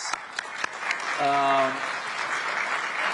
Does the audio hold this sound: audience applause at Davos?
yes